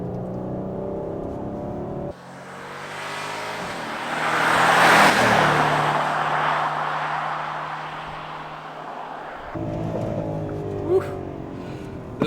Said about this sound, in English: There's burbles on the overrun.